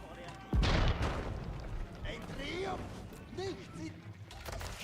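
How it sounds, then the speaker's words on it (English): Bombards in Age of Empires 4 fire at a palace: a loud booming blast near the start, then further impacts and battle clatter under talk from a caster. "Anatan is still trying to break the palace with bombards instead of just going trebuchets."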